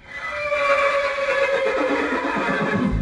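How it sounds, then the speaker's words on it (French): A horse gives a loud, close, drawn-out whinny that wavers and falls in pitch for about three seconds, heard alone without talk. "le cheval est scellé et vous allez faire une petite promenade"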